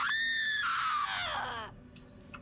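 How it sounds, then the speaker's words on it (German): A banshee in Borderlands 3 lets out a long, shrill scream into a recorder that wavers and then slides downward, followed by a couple of faint clicks. "Würdest du bitte mal in diesen verfluchten Rekorder schreien?"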